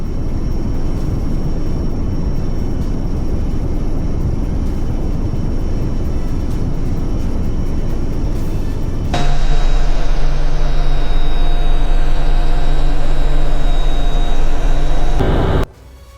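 Six Rafale fighter jets fly in formation over the 2026 Republic Day parade: a loud, sustained jet roar that shifts partway through into a steadier engine drone with a high whine, then cuts off abruptly.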